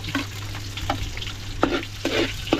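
Garlic, onion and pigeon peas sautéing in a pan for a Filipino chicken stir-fry, a steady close sizzle broken by several scraping stirs of a spatula, over a low constant hum.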